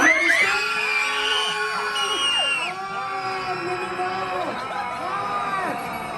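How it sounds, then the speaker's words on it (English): Audience at a horror make-up stage show at Universal Studios Orlando screams and yells loudly together, a dense sustained crowd roar with overlapping shrieks rising and falling throughout. "You guys can scream along."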